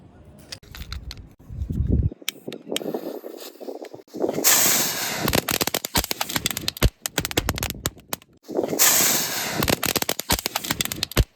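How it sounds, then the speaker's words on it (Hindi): Small chitpiti firecracker bombs are set off together outdoors, giving dense bursts of rapid sharp crackling pops with hissing, in two loud waves separated by quieter gaps. "तो चलिए अब हम इन चिटपिटी बम को चलाते हैं।"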